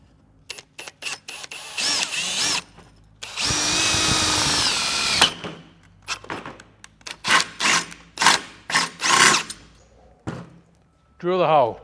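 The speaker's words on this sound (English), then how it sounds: "Drill the hole." Power drill boring a hole with an 8.9 mm bit while a PWR radiator is fitted, several loud whirring bursts of varying length between clunks and handling noises, including one long sustained run.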